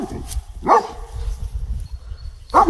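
A dog barking outdoors during a tense wilderness encounter, two sharp barks about two seconds apart over rustling and low background noise.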